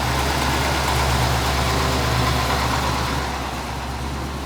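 A car engine idles through a newly fabricated exhaust system with no leaks, a smooth, steady low rumble, close by and uninterrupted.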